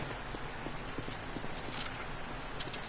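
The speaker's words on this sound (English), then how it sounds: "I can hear footsteps." Footsteps in the game 7 Days to Die tap in a quick, regular series of light clicks, fairly faint beneath a constant wash of background noise.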